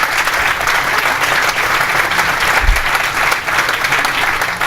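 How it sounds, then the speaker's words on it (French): An audience at a round-table conference applauding the panelists, loud sustained clapping filling the room evenly from start to finish, with a brief low thump partway through. "On peut les applaudir."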